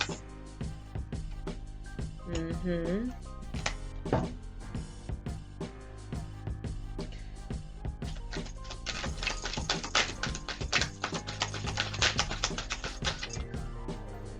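Large tarot cards being shuffled by hand, a dense run of crisp taps, flicks and riffles up close, with a faint musical bed beneath.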